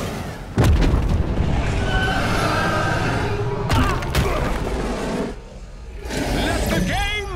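Booming explosions from a boss's weapons in LEGO Marvel Super Heroes 2 hit loud and close, with heavy blasts at the start, then another burst and a rumbling, crackling tail, game sound effects layered together.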